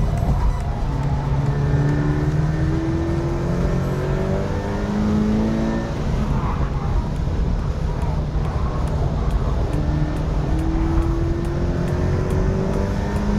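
Car engine on a track lap, accelerating and downshifting with rising revs and brief drops between gears, steady and moderately loud throughout, with faint background noise.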